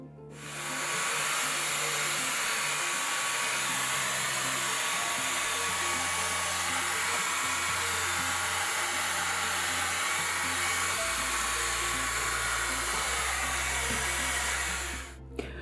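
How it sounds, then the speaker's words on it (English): An LG CordZero cordless stick vacuum cleaner runs steadily in a workshop, a loud, even airy whine that holds for about fourteen seconds with a slight shift in pitch partway through, then cuts off. "I'm constantly vacuum cleaning my workshop."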